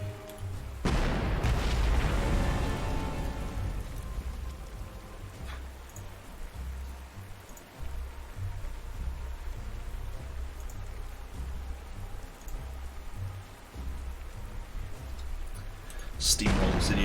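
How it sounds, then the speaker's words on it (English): Heavy rain pours in the WWII strategy game Panzer Corps around Arras, 1940, a continuous broadband hiss with a booming impact near the start and another burst at the end, a voice briefly audible beneath. "Good old fat rain."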